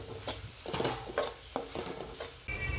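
Onion with dry spices stirred in an oiled pan, a spatula scraping and knocking against the metal in short irregular strokes over a soft background sizzle, close and moderately loud.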